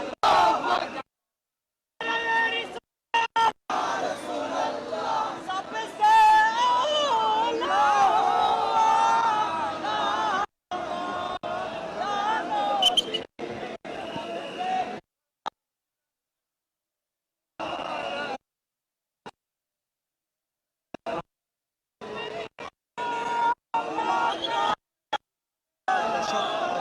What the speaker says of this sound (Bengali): যেমনটি শুনছিলেন এসেছেন তারা বিভিন্ন ধরনের যে ধর্মীয় স্লোগান রয়েছে সেগুলো তারা দিচ্ছেন